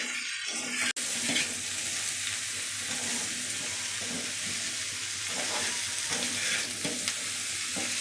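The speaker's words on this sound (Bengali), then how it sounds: "নাড়াচাড়া করে নিব" Bottle gourd and sole fish curry with sliced green chillies sizzles loudly in a pan, a continuous close frying hiss with soft scraping stir strokes and a sharp click near the start.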